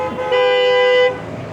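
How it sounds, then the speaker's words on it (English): A Mercedes car horn sounds once, a loud, close, steady tonal honk lasting under a second, set against a faint background of winter street traffic in Toronto. "Mercedes is honking"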